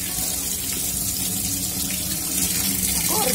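Fern shoots (broto de samambaia) rinsed under a running kitchen tap, a steady close hiss and splash of water that continues unbroken throughout.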